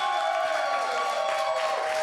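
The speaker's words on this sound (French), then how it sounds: "Oui, on peut vous applaudir. Applaudissez." A comedy show audience applauds and cheers in a bistro, a dense, continuous roar of clapping and crowd noise at steady loudness throughout.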